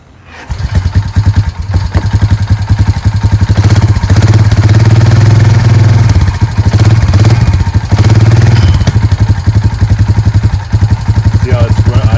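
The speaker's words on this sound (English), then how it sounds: "we're going to pull start it just for funsies" A 2006 Honda Rancher 350 ATV engine sputters to life after a pull start and settles into a loud, choppy, hard idle, close up with uneven throbbing pulses.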